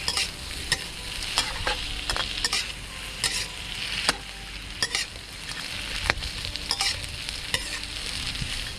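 Shrimp stir-fried in a pan for a Thai salt-and-chili shrimp dish, with a steady sizzle of frying broken by repeated sharp scrapes and clanks of the utensil against the pan, close and fairly loud.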